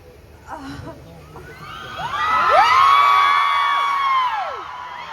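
A large concert crowd at a live show in Chennai cheers and screams, swelling from a murmur into loud sustained whoops and shrieks that hold for several seconds before easing slightly.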